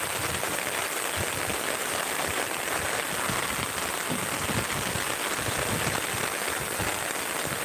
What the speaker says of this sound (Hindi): बारिश बहुत तेज चल रहा है।